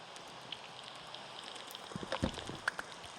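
Rain falls in the video game Minecraft as a faint, steady patter, with a few louder drop-like ticks toward the end.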